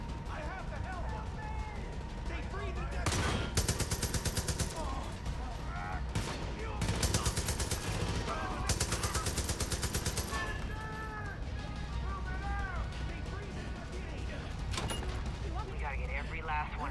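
Sniper rifle fire in Far Cry 5 inside a bunker, several bursts of sharp shots spread across the stretch, mixed with someone talking over much of it.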